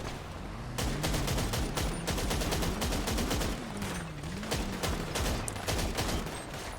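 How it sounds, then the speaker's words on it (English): Dense gunfire in a tense law-enforcement standoff, with rapid bursts of overlapping shots crackling continuously, sounding like a fusillade, loud and sustained over a low droning hum. "They're shooting."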